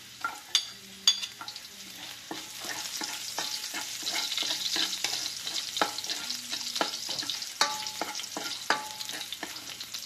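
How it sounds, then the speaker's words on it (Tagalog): Garlic fries in a pan with a soft, constant sizzle, broken by scraping stirs and sharp clinks of a utensil against the pan, close and fairly quiet. "Lagay po natin ating bawang."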